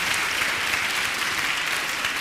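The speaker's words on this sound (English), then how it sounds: "a round of applause." An audience at a community event gives a steady round of applause for a group of children, a dense, even wash of many clapping hands lasting a couple of seconds with no talking.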